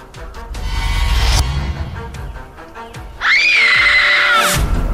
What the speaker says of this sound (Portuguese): Que grito foi esse?